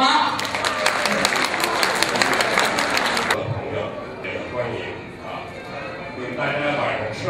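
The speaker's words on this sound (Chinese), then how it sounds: "我想请呢大家用掌声欢迎" A crowd applauds at a Spring Festival celebration banquet with steady, dense clapping for about three seconds. It stops abruptly and gives way to someone speaking over room murmur.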